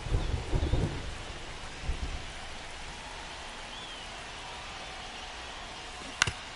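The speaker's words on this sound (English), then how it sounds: "This rain is not letting up." Steady rain pours in a baseball game in MLB 25, with a soft thunder rumble near the start and a sharp crack near the end over the constant hiss.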